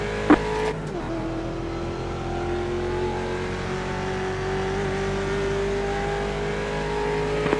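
A Ford Mustang Challenge race car at Road America in iRacing accelerates at the green flag, its engine droning steadily as the pitch climbs through the gear, loud and close after a brief click at the start.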